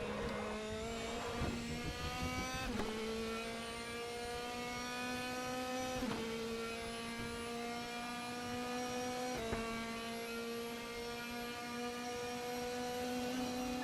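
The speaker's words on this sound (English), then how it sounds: "brake at the last orange billboard, down to third gear and then flat out to the finish line" Race car engine in a racing video game at the Zandvoort circuit, loud steady high-pitched whine that climbs through the revs and drops at each of several upshifts, heard alone without talk.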